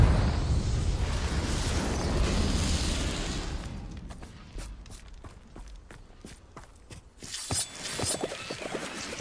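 A Confringo blast from Hogwarts Legacy erupts in a dense, roaring burst that decays over about four seconds, followed by sharp footsteps and small pops in a quieter game scene.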